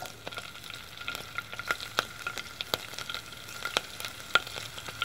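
Fennel seeds and green chilies fry in hot oil with a steady soft sizzle, crackling and popping in sharp scattered bursts near and clear, with no voices.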